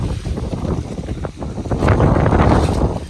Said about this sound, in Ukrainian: Вітер, звісно, капець.